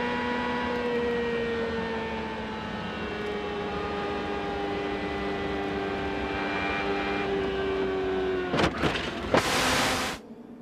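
Onboard an IndyCar racing at California Speedway in the 1997 Marlboro 500: a loud, sustained engine whine holds and shifts pitch, then broken by sharp bursts of noise near the end.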